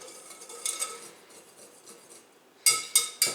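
Salt being whisked into a bowl of dough ingredients for homemade sandwich buns. A metal whisk scrapes and rattles against the bowl in soft strokes, and three sharp clinks follow at the end.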